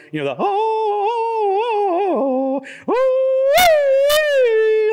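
A voice imitates a dog howling, sliding up into long wavering wails, breaking off briefly and then rising again into a higher, louder howl.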